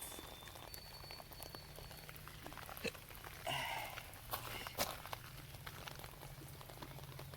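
Steady rain patters outdoors on stones and clover, a dense, even hiss of drops with a brief louder splash flurry midway; no voices.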